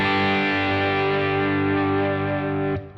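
Distorted electric guitar, a 2021 PRS Studio played through a low-output 58/15 humbucker, with chunky sustained chords ringing loud and steady for about three seconds before a brief break and a new strike.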